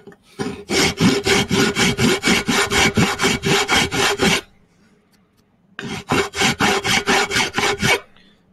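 Steady rhythmic strokes of sawing or filing on a workpiece held in a vise, a rasping back-and-forth repeated about fifteen times, a short pause, then another run of strokes.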